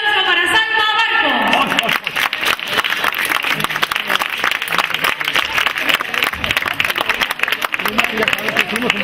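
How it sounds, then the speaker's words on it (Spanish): Audience applause for Salma Barco at a local event, dense sustained clapping with some crowd noise, loud and steady throughout after a brief moment of voice at the start. "¡Fuerte aplauso para Salma Barco!"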